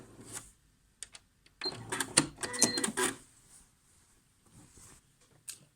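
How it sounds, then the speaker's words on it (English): A sewing machine stitches a buttonhole on pyjama fabric, running in a dense mechanical burst of rapid needle strokes for about a second and a half, with a few short clicks before and after and quiet pauses around it. "I'm just going to finish my last buttonhole"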